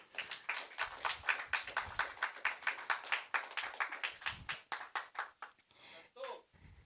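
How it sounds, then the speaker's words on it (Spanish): A church congregation claps loudly in unison, a rapid, rhythmic run of sharp hand claps that loosens and fades near the end as a voice begins to speak. "dele fuerte el aplauso al Señor"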